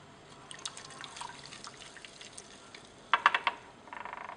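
Copper sulfate being stirred into about 80 mL of water in a lab vessel gives faint, quiet clinks and liquid drips, irregular light taps with a brief louder cluster of clinks near the end, no talking.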